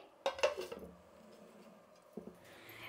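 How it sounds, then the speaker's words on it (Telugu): Lid set onto a container of fermenting dosa batter in a home kitchen, giving a couple of close clattering clinks, then a quieter second knock after a pause. "ఇప్పుడు మూత పెట్టేసి పొద్దునకి చూద్దామండి"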